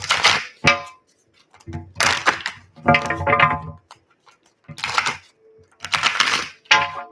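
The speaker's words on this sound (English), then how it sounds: "Shuffling for Nichols." Stiff tarot cards riffled and shuffled in several quick bursts with brief pauses between, close and fairly crisp.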